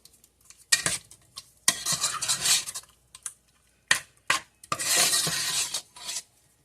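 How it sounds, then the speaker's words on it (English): A spoon stirs cheese and milk cream in a pan, with close scraping and clinking strokes in several bursts, some short and some sustained, separated by brief pauses. "Give it a nice stir around to cover the cheese and that milk cream."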